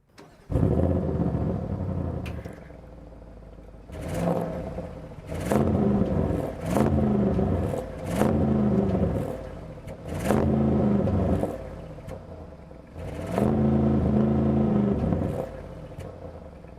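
Audi RS6 Wagon with a 4-liter twin-turbo V8 engine on the road, its loud engine note surging in repeated rising pulls with brief lulls between accelerations, heard close and without talk.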